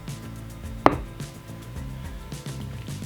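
A knife slices through a block of tofu in one sharp, close chop against a cutting board, a single clear strike over quiet kitchen background.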